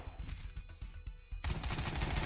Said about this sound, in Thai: ตรงนี้นะคะเราก็ยิงมันได้เรื่อยๆนะคะ